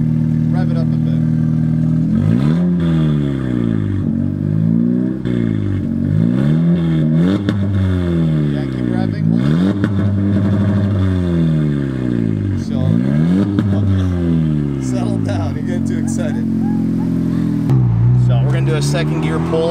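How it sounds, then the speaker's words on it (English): A modified Honda Civic engine revs repeatedly, rising and falling in pitch with each blip of the throttle, loud and close, with a short idle between pulls and faint voices in the background. "And then she's gonna rev it a bit so we can hear how the car sounds."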